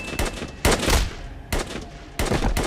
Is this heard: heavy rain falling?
no